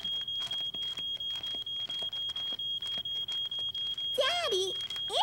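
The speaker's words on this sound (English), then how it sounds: "My toast burned and set off the fire alarm." A smoke alarm set off by burned toast beeps in a rapid, steady, piercing rhythm throughout, loud and close, while a voice speaks near the end.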